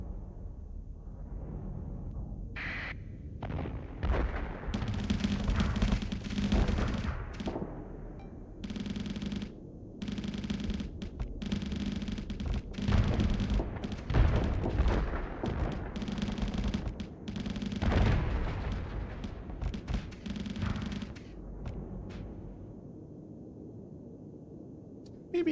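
Macro cannons and a bolter firing in the space combat game Starsector, a dense, continuous barrage of booming shots and rapid bursts that runs nearly the whole time, loud and layered with rumbling impacts.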